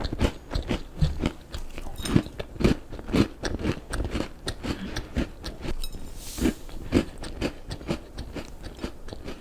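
Close crunchy chewing of a salty vanilla-flavoured snack, repeated bites and mastication in a steady rhythm with no speech.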